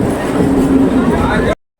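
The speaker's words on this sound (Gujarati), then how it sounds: "હવે આપણે ટ્રેન આવી ગઈ છે" A train pulls into a station, a loud close rumble with a sustained tonal whine and rolling rail noise, cutting off abruptly near the end.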